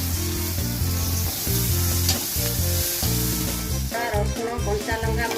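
Hot oil sizzles in a pan after pieces of bhakur fish are fried for a fish curry, a bright continuous hiss running over a steady tonal background.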